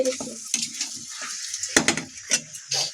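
A kilo of chicken is being dry-fried and stirred in a pan, its hiss broken by sharp, irregular scrapes and clacks of the spatula against the metal, close and crisp.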